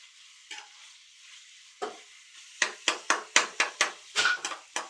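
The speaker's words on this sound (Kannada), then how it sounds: "ಈರುಳ್ಳಿ ಫ್ರೈ ಆಗ್ಬೇಕಾ ನೀಟಾಗಿ?" Onions for chitranna gojju fry in a pan with a soft steady sizzle, while a spoon scrapes and knocks against the pan in a quick run of close stirring strokes.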